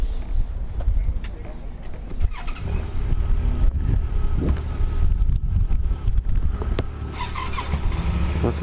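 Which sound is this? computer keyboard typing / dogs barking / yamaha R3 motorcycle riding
yamaha R3 motorcycle riding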